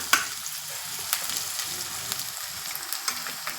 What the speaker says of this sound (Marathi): कांदा आता आपण परतून घेऊ